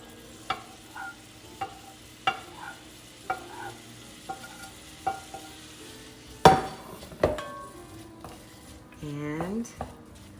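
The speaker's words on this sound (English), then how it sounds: "so that I could saute the onions and the green peppers." Onions and green peppers sauté for Cuban picadillo, stirred with a wooden spoon that knocks against the pan in regular taps over a low sizzle, with a person talking through it.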